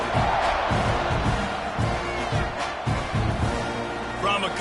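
Stadium crowd at a Texas A&M college football game against Georgia, a loud, steady roar of many voices with rhythmic swells and thumps as the kickoff nears.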